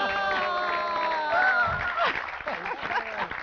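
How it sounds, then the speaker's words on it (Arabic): A family audience applauds with brief cheers and laughter, the clapping mixed with voices speaking over it. "تصفيق الاهل"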